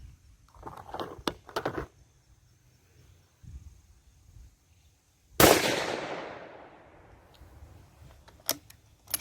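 A single sharp, loud rifle shot from a Mossberg Patriot Predator with a pillar-bedded stock, fired at a range during accuracy testing, cracks at once and rolls off in a long fading echo, with faint handling clicks before it.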